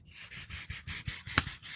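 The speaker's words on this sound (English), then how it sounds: "Hear that? That's the sound of newsprint." Comic book newsprint pages are handled close by, making soft, quiet rustles that come in a quick, fairly even run of short crinkling bursts.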